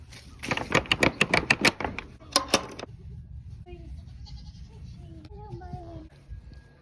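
A goat on a backyard farm bleats in a rapid run of loud, close calls, then falls quiet while a person talks over soft background farm noise.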